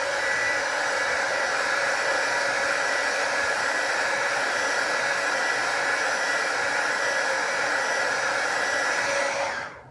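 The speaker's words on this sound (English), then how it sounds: "And then we're going to heat it up with the blow dryer." Blow dryer heating a motorcycle fairing decal, a loud continuous airy whoosh held steady for about ten seconds before cutting off.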